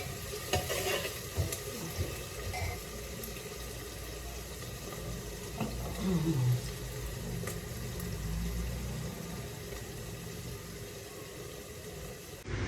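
Onions browning in a pan alongside porridge cooking, a steady soft sizzle with occasional stirring scrapes, close and fairly quiet, with no talk.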